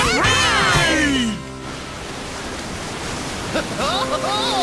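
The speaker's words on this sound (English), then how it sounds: "It's all wind and rain and waves" Cartoon ocean surf with wind and rain, a broad steady roar of crashing waves after a burst of music, continuous and fairly loud throughout.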